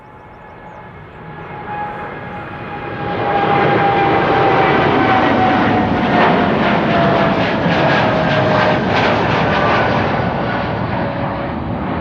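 An 11-year-old Boeing 787 Dreamliner at Amsterdam Schiphol Airport roars nearby, its jet engines swelling from a distant whine to a loud, sustained rumble with a steady high tone and a slight pulsing, no voices.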